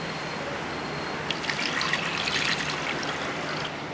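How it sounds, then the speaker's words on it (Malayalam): Water trickles and splashes steadily into a bowl for a couple of seconds, with a quiet hiss before and after; no voices. "കുറച്ച് വെള്ളം കൂടെ ഒഴിച്ചിടാം"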